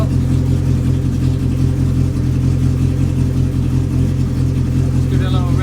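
Car engine with an oil-pressure issue idling as it warms up, a loud, continuous close hum with a slight rise suggesting a light rev, heard alone without talk.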